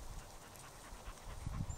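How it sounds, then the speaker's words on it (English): A Norwegian Elkhound pants steadily on a hike outdoors, with quick soft breaths close by and a few louder rhythmic pants near the end, against a low wind-like background. "She's been a wonderful dog, just Letta."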